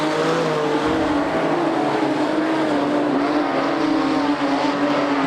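Modified production race cars lifting off the throttle into a turn at Charlton Raceway, with several engines droning together in a steady, loud wash and falling pitch lines as they ease off, with no talk over it.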